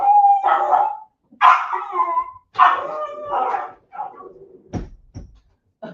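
A dog chasing squirrels outdoors barks in several loud, close bursts and yips, spaced about a second apart and fading into shorter, fainter yelps at the end.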